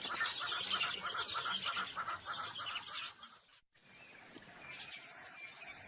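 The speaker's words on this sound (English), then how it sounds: "It's a little bird feeding party." Many birds chatter and chirp at a dense, busy pace while feeding near resting lions outdoors, with a short dip in the middle.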